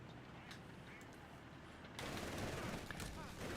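MG42 machine gun fire from a half-track in the video game Company of Heroes 3, a dense continuous rattle of rapid shots that swells louder midway, layered with distant battle noise and faint talk.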